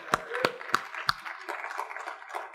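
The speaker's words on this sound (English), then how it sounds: "Please, a big round of applause" Sparse applause from a small audience at a CES 2015 event, a few loud separate claps spaced out at first, then softer scattered clapping trailing off.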